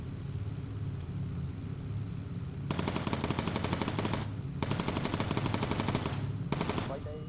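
Bomber gunners firing machine guns in the Bomber Crew video game: a steady engine drone, then two long loud bursts of rapid automatic gunfire with a short pause between.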